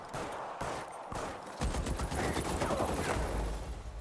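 Dense, overlapping gunfire rings out in a 1940s Los Angeles crime game, a fast volley of shots blending into a sustained roar that grows heavier after the first second and a half, loud and close with no talking.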